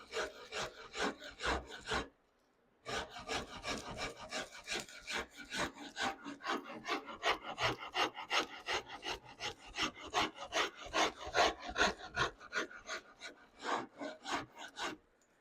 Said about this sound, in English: I can get back in here with my file,